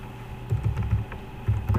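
Code being typed on a computer keyboard, two quick clusters of close, crisp keystrokes with a short pause between them.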